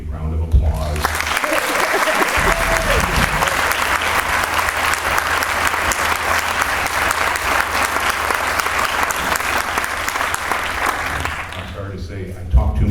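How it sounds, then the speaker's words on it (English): A concert crowd gives a big round of applause for a big band at a world premiere, loud sustained clapping that starts abruptly, holds steady for about twelve seconds, then fades as a voice returns at the end. "I just want to give them a big round of applause"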